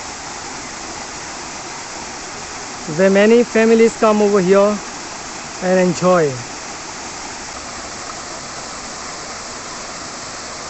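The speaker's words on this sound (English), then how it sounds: "It's a beautiful waterfall" Verna Spring waterfall near Loutolim in South Goa pours as a steady, broad rushing hiss throughout, with someone speaking briefly over it.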